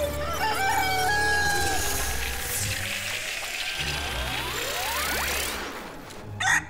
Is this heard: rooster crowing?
yes